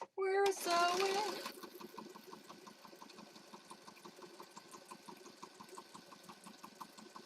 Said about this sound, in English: We're sewing. We're sewing.